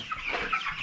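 Broiler chickens on a Philippine chicken farm give a short burst of overlapping clucks, close and moderately loud, with no talk over them.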